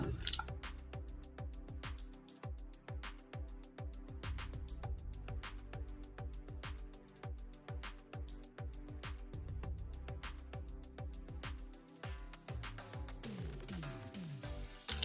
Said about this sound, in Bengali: এবার আমি সব কিছু হাত দিয়ে ভালো করে মেখে নেবো